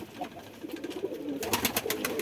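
A Kaldam pigeon coos in a loft, giving soft low throaty calls near the microphone, followed by a short burst of rapid fluttering or wing flaps. There is no talking.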